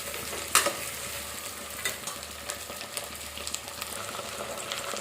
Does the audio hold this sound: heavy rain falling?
no